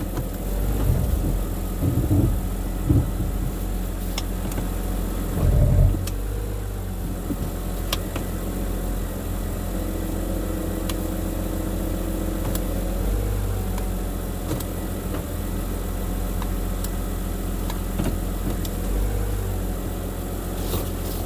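High-mileage BMW E90 328i engine running as the car backs up in reverse, a steady close engine hum with a few clunks and small bumps early, no talking.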